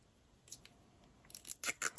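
Scissors snipping a strip of washi tape for a vintage journal craft made from old book pages: a faint cut early, then several sharper, close snips in quick succession toward the end, with no talking.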